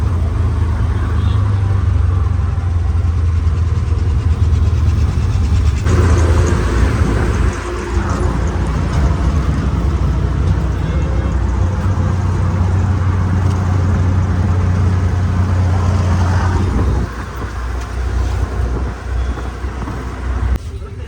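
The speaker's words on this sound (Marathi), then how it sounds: "खराडी चौकात उतरून दुसऱ्या रिक्षात बसलोय" An auto rickshaw engine drones continuously during a ride through traffic at Kharadi junction in Pune, with road noise and passing vehicles around it and a brief drop in the engine hum partway through.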